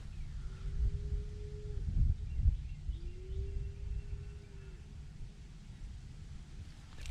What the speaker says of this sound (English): You hear the cows hollering?